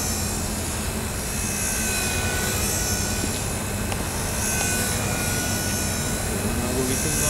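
A Blade mCP X V2 RC helicopter flying, with a steady, continuous rotor whir and high motor whine throughout, fairly loud and close, with faint voices in the background.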